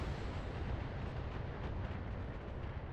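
Missile indirect fire in BattleTech arrives as a continuous, broad, rumbling roar of distant impacts that holds at an even level for the whole stretch, with no voices.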